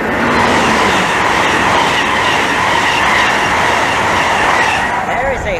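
A Class 305 electric train passes close by at Maidenhead station, a loud, continuous rumble and clatter of wheels on rails filling the whole stretch.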